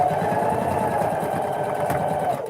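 A sewing machine stitches fabric for a Christmas bucket, a loud, steady close-up mechanical whir that runs without a break and then begins to wind down at the end.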